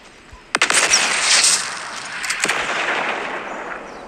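SMG gunfire in Fortnite Chapter 2 crackles in a quick rapid burst, followed by dense, hissing noise and a few more scattered shots, loud and close with no talking.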